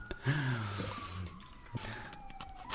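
Ambulance siren with a wailing, slowly falling tone, faint and somewhat distant, over low background noise and a few brief voice sounds.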